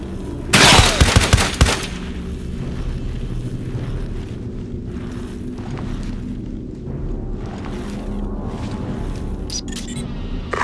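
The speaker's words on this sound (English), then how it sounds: "Captain, taking hostile fire!" Loud burst of rapid automatic gunfire in the tactical shooter Ghost Recon Advanced Warfighter, a dense volley lasting about a second, followed by a steady low rumble of battlefield ambience.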